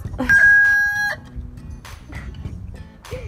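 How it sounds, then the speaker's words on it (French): A rooster crows once, loud and near, with a long sustained cry, followed by quieter clucks and scattered farmyard noise. "nous avons le coq qui est en train de chanter"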